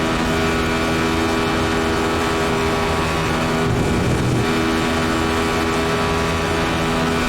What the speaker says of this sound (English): Running the radical all the way up to top revs